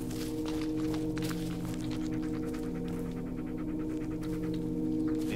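A dog in the Blair Witch video game pants in quick, steady breaths, close and continuous, with faint footsteps mixed under a low droning background.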